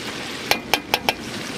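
Chicken curry with fried potatoes sizzles in a pan while a utensil scrapes and taps against it in a few quick, sharp strokes over a low, steady frying hiss, close by.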